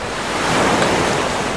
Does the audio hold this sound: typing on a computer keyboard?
no